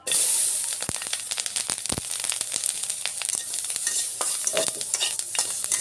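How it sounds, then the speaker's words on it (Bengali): Green chillies fry in hot oil right after dried chillies, with a loud, close sizzle broken by sharp, irregular pops and crackles of spattering oil and stirring. "কাঁচা লঙ্কাটা একটু সাবধানে ভাজবেন"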